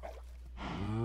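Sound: cow mooing in Minecraft (video game)

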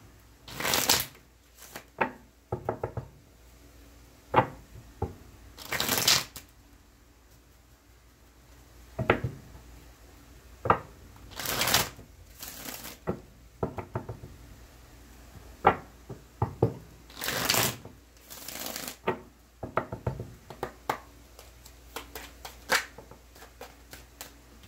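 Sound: shuffling and cutting a tarot card deck

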